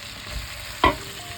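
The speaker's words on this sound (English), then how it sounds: "Then add in your beef back into the pot and all the juices, and just mix all that together." Beef and its juices are stirred together in a pot, producing a soft, steady simmering hiss and one short, sharp scrape of the spoon partway through.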